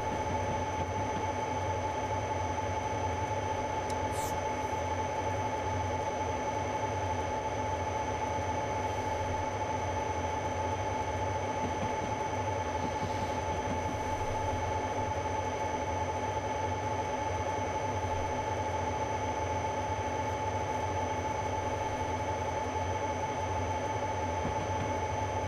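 A long freight train in Train Simulator 2022 on the Mount Shasta Line rolls steadily with a continuous rumble and a sustained high tonal whine, unchanging for the whole stretch with no talk.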